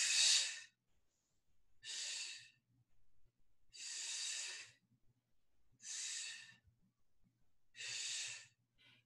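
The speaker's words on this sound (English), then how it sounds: "You can hear I'm breathing out every time I pick up my arms in the air." Forceful exhalations during an at-home full-body workout with light weights, five sharp breaths out at a steady rhythm about every two seconds, close and alone with quiet gaps between.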